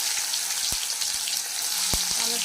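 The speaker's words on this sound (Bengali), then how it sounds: "টমেটোটা একটু ফ্রাই হবে।" Chopped tomato fries in oil with whole cumin, a cardamom pod and bay leaf. A dense, bright sizzle runs throughout, with a couple of soft thuds from stirring.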